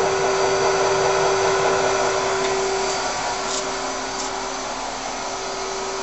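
Spindle of a Daewoo Puma 6G CNC turning center running at 300 RPM, set up for collet work with a hydraulic chuck, giving a steady close mechanical hum with a constant whine over broadband machine noise throughout.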